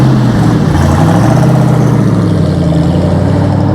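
A 1967 Ford Mustang fastback with a Cobra Jet V8 roars past close by, a loud, deep, steady engine rumble that holds its pitch with slight shifts as it passes.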